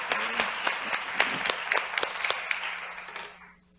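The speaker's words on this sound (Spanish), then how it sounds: "Demos un aplauso" An audience applauds a speaker being introduced at a mental health forum, a short burst of scattered clapping that peaks early and then fades out to quiet.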